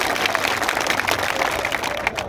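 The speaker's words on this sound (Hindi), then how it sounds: "आप उन सबके में ताली बजा के उनका स्वागत करिए" Audience clapping welcomes party leaders at a farmers' protest outside the collectorate in Guna, Madhya Pradesh, a steady, dense wash of applause from a crowd that holds even through the whole stretch.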